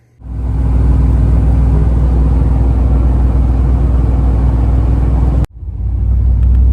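A car engine fires up and settles into a loud, steady idle rumble close by, runs on for several seconds, cuts out abruptly and then restarts into the same running drone.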